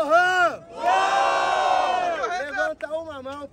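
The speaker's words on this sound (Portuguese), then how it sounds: "barulho pra quem gostou das rimas de Lohan" A crowd at a Brazilian freestyle rap battle roars and cheers loudly in a sustained burst of shouting voices, dipping briefly and then swelling again with whoops.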